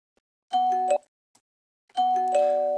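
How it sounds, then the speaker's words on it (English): Bell tones in a music production loop, two separate chimes of clean, ringing pitched notes, each a short rising figure that sustains briefly before cutting off, with silence between. "So right here, I'm going to start with these bells."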